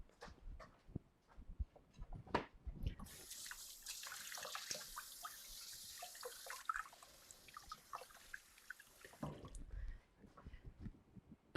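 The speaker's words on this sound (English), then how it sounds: "I'm going to rinse my hands." Tap water runs into a kitchen sink as hands are rinsed, a soft steady hiss lasting several seconds amid small clatters and splashes, fairly quiet and close.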